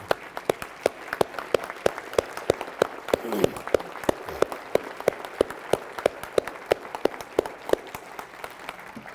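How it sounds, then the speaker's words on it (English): An audience at a State of the County address claps for first responders from the city and county, rhythmic sharp claps ringing out at a steady pace for several seconds over a soft crowd murmur, some hands clapping in loose unison. "if all our first responders would stand so we can give you a round of applause"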